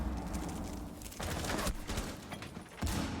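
Grenade blasts go off during a Rainbow Six Siege esports match on the Chalet map, with two loud broadband bursts rising out of ongoing gunfire-like noise.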